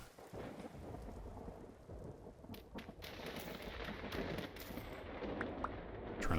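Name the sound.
thunderstorm with rain in video game Vintage Story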